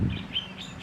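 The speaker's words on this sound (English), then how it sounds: "There's some happy birds around me" Birds chirp in short, bright calls in the open air beneath a Pohutakawa tree, soft and somewhat distant over a low background rumble.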